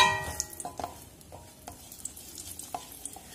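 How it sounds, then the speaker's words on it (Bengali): Mustard seeds, panch phoron, bay leaves and dried chillies frying in hot oil in a wok for amra chutney give a soft, steady sizzle, broken by scattered clicks and scrapes of a stirring spoon, close and without talk. "এখন আমি কড়াইয়ে গরম তেল দেব, দেব একটু সর্ষে, একটু পাঁচফোড়ন, দুটো তেজপাতা,"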